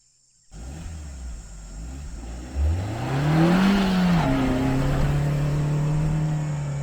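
A 4x4 on high tyre pressure revs hard in thick dune sand, its engine note climbing and wavering as the wheels churn and the vehicle bogs down, loud and close with no talking.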